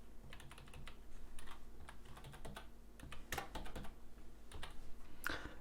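Login details typed on a computer keyboard, a close run of irregular key clicks and taps with a few louder keystrokes near the end and a faint steady hum underneath.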